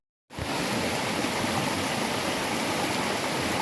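River water flowing around someone standing in the middle of the stream: a steady, dense rush that starts abruptly and holds at an even level throughout, close and loud, with no voices.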